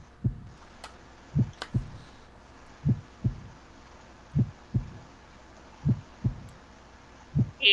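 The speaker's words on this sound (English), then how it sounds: "You hear that heartbeat?" A heartbeat in the video game Fire Emblem Three Houses pulses as paired low thumps that repeat at a steady, slow rhythm, muffled and alone over a faint background hum.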